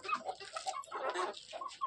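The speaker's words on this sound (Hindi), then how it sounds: "तो दोस्तों अभी मुर्गी को दाना देने के लिए आए हुए हैं और मकई वाला ले करके आए हुए थे मुर्गी खिलाने के लिए" Chickens and a rooster cluck busily close by while being fed maize grain, a continuous chatter of short, uneven calls.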